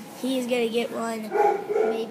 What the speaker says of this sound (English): Ooh, was that your dog?